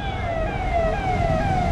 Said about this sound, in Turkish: Buranın ambulansı.